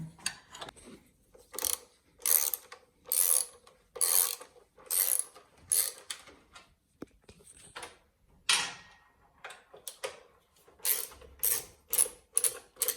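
Socket and ratchet working an M12 bolt while fitting crash bars on a Yamaha Tenere 700: repeated rapid clicking ratchet strokes in short bursts with pauses between, close and crisp, no talking.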